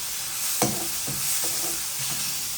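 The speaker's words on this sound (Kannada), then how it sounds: "ಆ್ಯಕ್ಚುಲಿ ನೋಡಿ ಈ ಥರ ಫುಲ್ಲು ಫ್ರೈ ಆಗಬೇಕು" Food frying in a pan for a diet lunch, a steady bright sizzle broken by a few distinct scraping stirs, close and clear with no talking.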